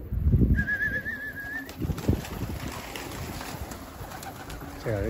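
A dönek tumbler pigeon gives soft, low coos at the start and again near two seconds, heard close against a faint outdoor background, with a thin warbling tone passing briefly early on.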